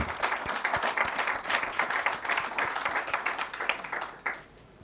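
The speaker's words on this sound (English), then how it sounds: "Can you join me in giving a big round of applause?" An audience at an event about defending citizen election observers in Africa breaks into sustained, dense applause, with many hands clapping together for several seconds before it thins out.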